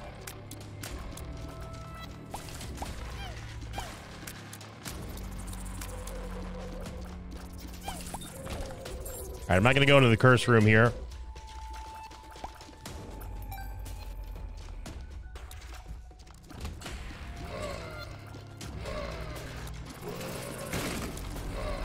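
A brief, loud new sound effect from The Binding of Isaac: Repentance bursts out around the ten-second mark above steady game music and small mechanical effects, with someone talking over the gameplay.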